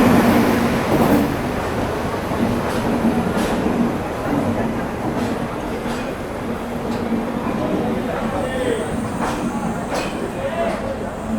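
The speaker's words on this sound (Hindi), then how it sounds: "ये आ गई दोस्तों सिलीगुड़ी के वेब 7 के साथ, जिसका रोड नंबर है 39372 न्यू दिल्ली हावड़ा पूर्वा एक्सप्रेस।" New Delhi–Howrah Poorva Express pulling in behind a WAP-7 electric locomotive from Siliguri shed, a steady rumbling train roar with faint clacks and brake hiss. Station noise and talk sit underneath throughout.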